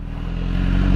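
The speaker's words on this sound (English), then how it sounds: "And here's the sound of the exhaust. Actually, let me start that up for y'all so y'all can hear it." A BMW S1000RR sport motorcycle engine runs at idle close by, a deep steady rumble with a fine rapid pulse that stays loud and even throughout, no talking.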